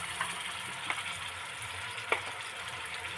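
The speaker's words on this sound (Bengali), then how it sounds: "আলুটা হালকা করে ভেজে নিয়েছি, এবার পেঁয়াজ বাটা দিয়ে দেবো" Onion paste goes into a pan of lightly fried potatoes, giving a steady soft sizzle with a few brief stirring scrapes, close and fairly quiet, no talking.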